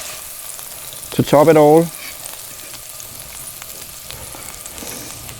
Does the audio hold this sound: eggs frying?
yes